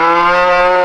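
Cattle on a farm where cull cows and bulls are being added to the herd give one long, loud, sustained moo close by, steady and harmonic, with no talking.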